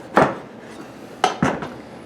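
A spoon scooping seeds from a halved butternut squash: three close, dull scraping knocks against the hard flesh, one early and two in quick succession near the end, with quiet between.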